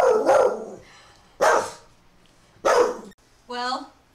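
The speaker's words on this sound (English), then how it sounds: "Well, the dog has spoken." A dog barks close by: three sharp, loud barks at steady intervals, then a higher, drawn-out yip.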